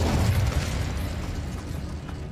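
A Confringo spell explosion in the Hogwarts Legacy video game, a loud, booming burst that rumbles and slowly decays over a couple of seconds.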